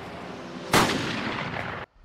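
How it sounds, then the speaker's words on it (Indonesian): A single sharp gunshot cracks out loud and close in a Korean drama, followed by a short rumbling tail before it cuts off abruptly. "terdengar letusan tembakan dari pelaku yang sedang menembaki korbannya"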